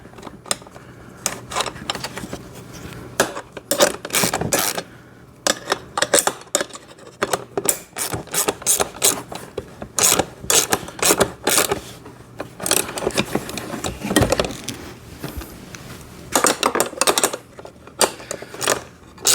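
Clicking and clinking metal taps of a wrench tightening a nut on a kids' battery-powered ride-on motorcycle, sounding in irregular close bursts throughout with no talk.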